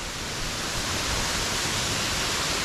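Waterfall in Meghalaya: a dense, steady roar of rushing, falling water, continuous and enveloping with no other sounds.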